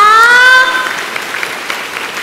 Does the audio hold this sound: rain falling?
no